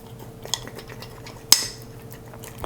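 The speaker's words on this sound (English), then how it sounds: "getting into the bottom, scrape that all out. Make sure you scrape the sides down" Spoon scraping stiff rye flour sourdough starter in a jar, soft scrapes with two sharper clinks against the glass, over a low steady background hum.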